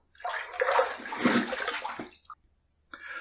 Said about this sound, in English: All right, first pass done. Let's rinse.